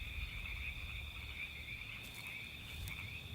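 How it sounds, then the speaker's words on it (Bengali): Frogs croak and crickets chirp around small rain-soaked fields at night, a steady high insect trill over a low, continuous chorus, faint and distant. "ছোট ছোট জমির আশপাশ থেকে ব্যাঙ ও ঝিঝি পোকার ডাক"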